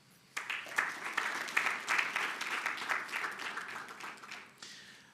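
Clapping breaks out from an audience at a debate competition final to welcome the judges, a moderate, steady round of applause that starts abruptly and tapers near the end, with no talking.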